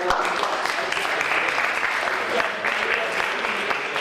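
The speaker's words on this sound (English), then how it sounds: "Let's give a big round of applause for them." A crowd at an entrepreneur tour event gives a big round of applause, thick continuous clapping at steady volume with faint cheering mixed in, filling the whole span without a break.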